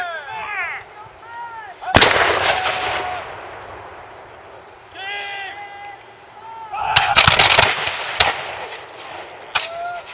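Black powder muskets at a 17th-century reenactment fire in two ragged volleys, each a loud cluster of overlapping sharp cracks with a rolling boom, set against quieter outdoor ambience and a few scattered single shots.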